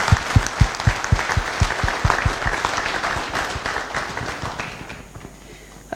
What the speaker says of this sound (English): Just give everyone a round of applause.